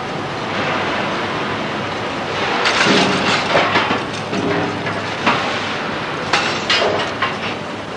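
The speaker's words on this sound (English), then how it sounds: "Here are the remains of 2 burned-up anodes being removed from a cell." Two burned-up carbon anodes are pulled from an aluminium smelting cell, giving heavy metallic clanks and knocks in short bursts over a steady industrial rumble.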